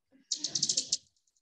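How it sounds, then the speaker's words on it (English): A bat closing in on a moth makes a terminal feeding buzz: a quick run of bright, clicking echolocation pulses that crowd together for under a second over a low murmur, then fade into faint ticks. "And eventually you get what we call a terminal feeding buzz. The calls get so close together, it's bzzz, right at the end as the bat's about to attack the moth."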